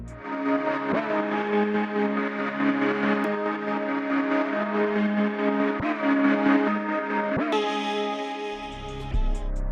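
A Hive synth preset runs through Gross Beat, EQ, reverb and a Cassette tape plugin, giving a warbling, wobbly sustained tone with rhythmic gating stutters and a bright shift near the end, no voices.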